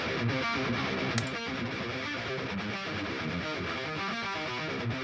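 A dense, gritty electric guitar plays a continuous distorted riff with a thick saturated tone, steady and loud throughout.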